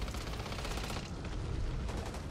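Rapid, dense gunfire from the video game Back 4 Blood as players shoot at an ogre, a loud continuous burst of automatic shots without pause.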